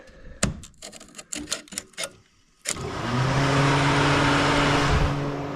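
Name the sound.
radiator fan and relay switched on with a magnet, Pontiac Vibe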